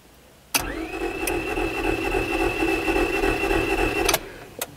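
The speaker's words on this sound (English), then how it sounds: "That's a pretty characteristic sound of a broken timing belt." A Honda Civic 1.7 engine with a broken timing belt cranks with a steady, fast whirring drone for several seconds, starting and stopping with sharp clicks, never catching, close and loud.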